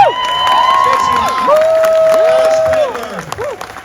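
A large crowd cheers and shouts at the signing of the Texas school choice law by Governor Greg Abbott, a steady roar of voices with whistles and calls held for several seconds before thinning out.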